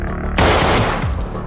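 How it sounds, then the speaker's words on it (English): Gunfire erupts in a film scene as a trap is sprung on gang henchmen, a sudden loud burst of shots that starts abruptly and rings out in a dense, sustained volley. "Henry's henchmen are taken out, and Henry himself is wounded by gunfire"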